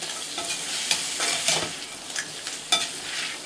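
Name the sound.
stirring crab masala frying in a pan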